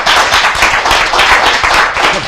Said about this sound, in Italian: Un applauso, vero?